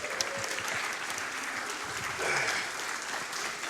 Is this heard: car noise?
no